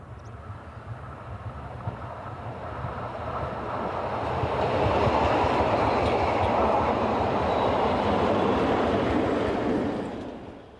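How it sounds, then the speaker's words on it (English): Zillertalbahn diesel locomotive number 10, built in 1970 and rebuilt in 1982, propels a passenger train toward Mayrhofen. Its steady rumbling roll and wheel noise swell as it draws close, then fade slightly at the end. "diesel locomotive number 10, originally dating from 1970, but rebuilt by the Zillertalbahn in 1982, propels this service for Meerhofen"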